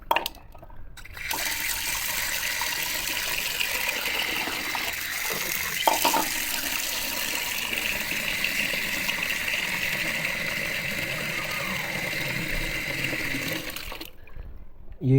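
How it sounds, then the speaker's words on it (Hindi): Cold water gushes steadily into a pot of boiled rice and lentils being prepared as soft food for finches, a continuous loud pour lasting most of the clip with no talk. "और फिर मैं इसमें थोड़ा डाल दूँगा ठंडा पानी।"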